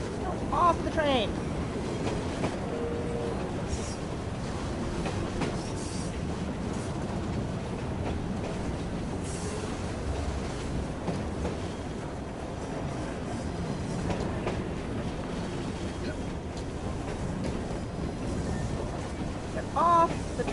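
A train in the Assassin's Creed Syndicate video game rumbles steadily along its rails for the whole stretch, with wind-like noise and occasional game speech over it.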